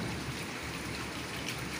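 Steady, dense rain falls during a summer downpour, a continuous broadband hiss of drops pattering on surfaces outdoors, with no voices over it.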